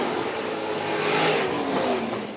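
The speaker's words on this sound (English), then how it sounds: "Zach Merritt on the low side of the racetrack, taking us down for the 20th and final time down Phillips County Raceway's back straightaway" Sprint cars roar down the back straightaway at Phillips County Raceway on the final lap of the main event, a loud, sustained engine drone that swells and fades as they pass.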